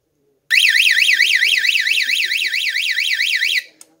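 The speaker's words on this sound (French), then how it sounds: "D'un coup, le guichet sonne l'alerte." A bank counter panic alarm from a hold-up alert system rings loud and close, a rapid warbling electronic siren that sweeps up and down steadily for about three seconds, then cuts off abruptly.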